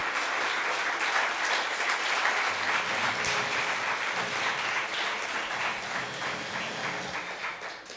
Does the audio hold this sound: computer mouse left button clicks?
no